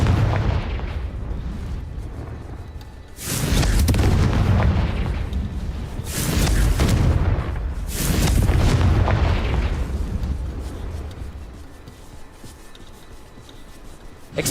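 Confringo blasting spells erupt in the Hogwarts Legacy video game, several heavy booming explosions in succession, each swelling loudly then rumbling away into a lingering roar, close and forceful with no voices over them.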